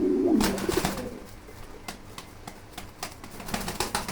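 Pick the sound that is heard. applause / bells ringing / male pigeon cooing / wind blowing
male pigeon cooing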